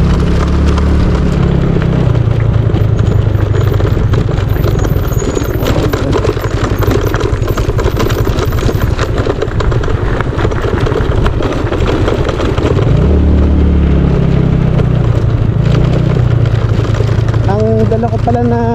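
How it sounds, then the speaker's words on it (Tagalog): The engine of an old original Yamaha Mio Sporty scooter runs close by with a steady low drone that fades and returns, and someone talks over it. "Dala ko pala na motor tong Mio Sporty, yung luma, pinakalumang Mio ito, yung original na ano, scooter eh."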